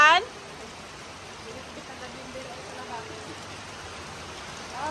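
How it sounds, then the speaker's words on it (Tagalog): Heavy overnight rain falls in a continuous broadband hiss, steady and fairly soft throughout, with no clear voices over it. "sobrang lakas ng ulan"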